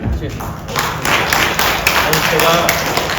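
Scattered clapping from an audience at a political party members' meeting, irregular hand claps over a steady room murmur with voices mixed in.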